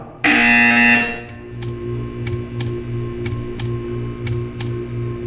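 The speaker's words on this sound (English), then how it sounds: "You will hear a buzzer. When you hear the buzzer, stare at the art." A loud electronic buzzer from Portal 2 sounds for about a second, then a steady hum follows with a series of sharp ticking clicks at regular intervals.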